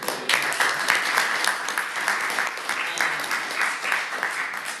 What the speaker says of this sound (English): And then a round of applause for our audience members.